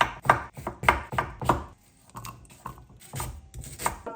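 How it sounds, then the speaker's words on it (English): A knife chops cucumber and red onions for a salad on a board in quick bursts of close, crisp knocks, with a short pause in the middle before a softer run of cuts. "Just chop it up."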